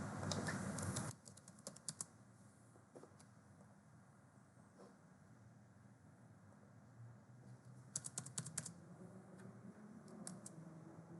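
Someone types an IP address on a computer keyboard. Soft, sparse key clicks come in short clusters over a low room hum, with a denser flurry of taps near the end.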